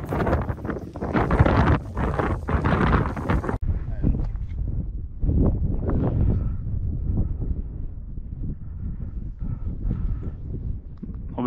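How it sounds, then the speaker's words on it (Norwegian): Strong wind buffeting the microphone outdoors on a ptarmigan hunt, a loud, rough roar that dominates the first seconds, then eases to a gustier rumble. "men det blåser enormt."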